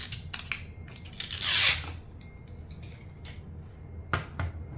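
Protective cover film is peeled off a vinyl disc, giving close, faint crackling and rustling with one longer tearing swish of film coming away, followed by a few small taps and handling sounds.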